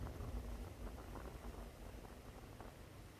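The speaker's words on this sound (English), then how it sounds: "my water is boiled." Soft, steady bubbling and rumbling of water boiling in a lidded camping pot, faint and continuous with no voices.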